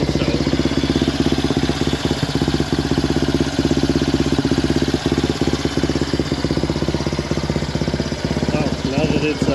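A Yamaha Warrior 350 ATV engine idles at about 1800 RPM, rumbling continuously with a low, even mechanical throb and slight knocking pulses, close and fairly loud throughout.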